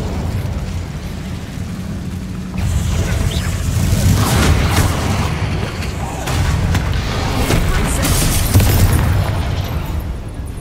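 In Hogwarts Legacy, Incendio fire spells burst with loud explosive whooshes and rumbling booms, several blasts in succession amid busy combat effects.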